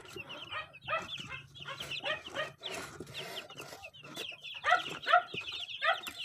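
Chicks cluck in repeated short bursts, several young birds calling close by in a crowded pen, rising and falling in uneven rhythm.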